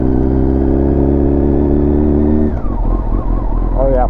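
A Honda CBR929RR sport bike with a new radiator out on a test ride, its engine holding a steady loud drone, then dropping off as wind rush and shifting engine tones take over near the end.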